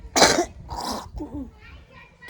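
A harsh, loud cough bursts out close by, followed by a second shorter cough, then quieter mumbling voices and faint background noise.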